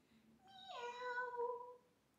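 A kitten or cat gives a single clear meow, a rising then falling drawn-out call heard close and alone in a quiet room.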